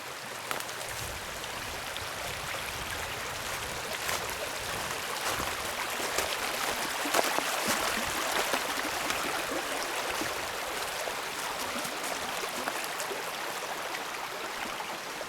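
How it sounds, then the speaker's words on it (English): Water runs down a shallow trail channel between banks along a wooded stream near the Rhode Island–Connecticut line, a steady close rushing wash that holds even throughout with no voices. "The water rides down."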